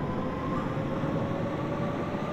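Simulated London Underground C Stock train on the District Line runs steadily at speed, a continuous rumbling rail roar with a faint high whine, no voices over it.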